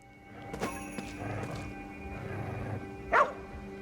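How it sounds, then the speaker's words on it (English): A dog barks a few times nearby inside the video game Ghostwire: Tokyo, brief yips over a soft ambient game backdrop, with one louder bark near the end. "there is a sound of a dog barking coming from nearby"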